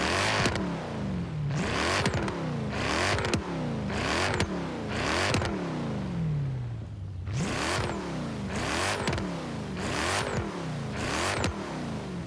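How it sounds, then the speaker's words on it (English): Mercedes C63 AMG S coupe with a 4-litre twin turbo V8 in Forza Horizon 3, revving hard through repeated upshifts in a steady rhythm, each pull rising then dropping, loud and close throughout. "Big 4-litre twin turbo V8."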